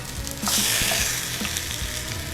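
Food sizzling in olive oil in a pan, a steady bright frying hiss with small pops and scraping as it is stirred, close and continuous.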